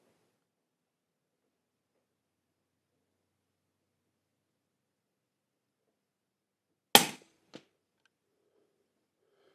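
A single loud, sharp gunshot from a Ruger American rifle in 300 Blackout, shooting at 100 yards, breaks long silence, followed half a second later by a fainter distant crack of the bullet striking downrange.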